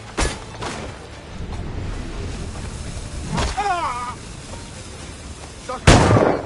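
Grenade blasts in Assassin's Creed Black Flag, several sharp explosive cracks scattered through a noisy battle, with a loud final burst near the end and shouting voices in the din.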